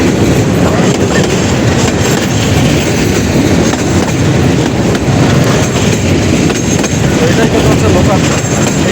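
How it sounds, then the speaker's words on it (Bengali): A local train bound for Rangpur passes close by on a Bangladesh line, a loud continuous rumble with rhythmic clickety-clack of wheels over rail joints throughout. "এটাই হলো লোকাল ট্রেন, এটা সরাসরি আপনার হচ্ছে রংপুরে চলে যাচ্ছে"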